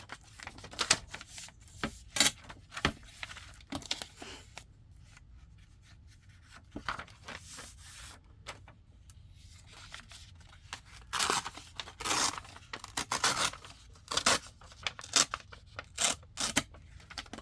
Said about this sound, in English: Just that whole sound of ripping paper.